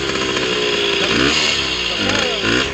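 A 125cc motorcycle engine with a carburettor fault revs and sputters close by, its pitch rising and falling unevenly as people talk over it.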